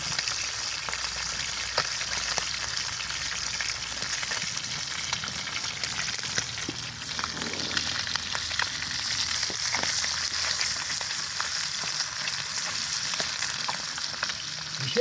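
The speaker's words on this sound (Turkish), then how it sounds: "ibikli dediğimiz balıkları tavamıza koyduk. Şu an ilikleri pişiriyoruz." Ibikli fish frying in oil in a pan, giving a steady, close crackling sizzle that keeps an even level throughout with scattered sharper pops.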